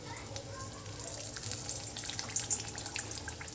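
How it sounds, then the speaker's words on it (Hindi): Coriander-leaf mathi dough frying in hot oil, a steady bubbling sizzle with fine crackles that grows slightly louder and denser over the few seconds. "चलिए अब हम मठी को फ्राई कर लेते हैं।"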